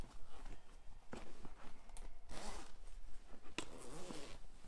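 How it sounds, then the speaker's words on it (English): A zip being fastened on a STRADA hood gives close, scratchy zipping strokes in a few bursts with brief gaps, fairly loud and mostly free of talk. "So you can put the zip on first,"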